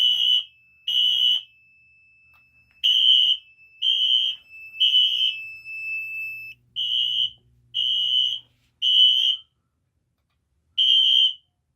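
A loud, piercing electronic fire alarm sounds in repeated bursts with brief pauses between them during a re-alarm test of an MS-5UD fire alarm panel. A faint low hum runs underneath for part of the time.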